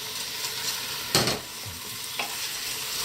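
Crabs and shrimps stir-fry in a pan for a Catalan monkfish suquet, a soft steady sizzle broken by two brief spatula scrapes, close up with no talking.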